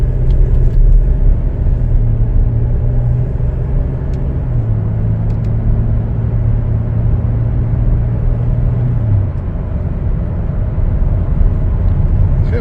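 A 2022 Chevrolet Traverse LS accelerates smoothly on a test drive, a steady, loud engine and road rumble heard from inside the cabin as the pitch climbs and then eases.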